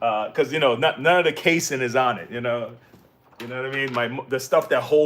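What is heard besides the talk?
No distinct noise like a dog, phone or traffic.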